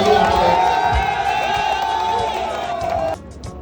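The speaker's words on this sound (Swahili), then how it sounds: "Tujipigie makofi kwa amani hiyo" An outdoor Madaraka Day crowd at Miritini Primary Grounds cheering and shouting loudly and continuously, with a voice over the top, before the noise drops off abruptly near the end.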